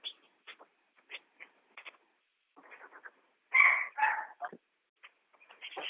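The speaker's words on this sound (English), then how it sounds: "we hear the puppies running this morning" Small yips, whimpers and squeaky barks from puppies come in short scattered bursts, with quiet gaps between them.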